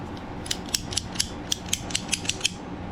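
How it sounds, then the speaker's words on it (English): A ratcheting cutter bites through PVC pipe in a quick run of about ten sharp, evenly spaced mechanical clicks, close and distinct over a low background hum. "That's how you cut PVC pipe."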